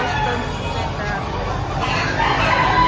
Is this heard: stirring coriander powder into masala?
no